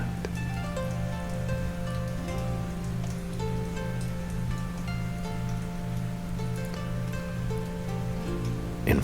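Steady rain falls continuously, loud and even, with sustained tones droning underneath and no breaks or speech.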